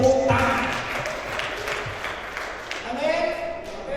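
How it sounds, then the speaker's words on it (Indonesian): A church congregation at an evening praise and worship service breaks into applause, clapping that swells, thins midway and rises again, with voices and faint musical tones underneath. "Tepuk tangan."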